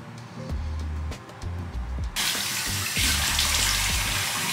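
Tap water runs into a sink during face washing, starting with splashes and light handling noises before surging into a steady, loud gush that keeps going to the end, with no talking.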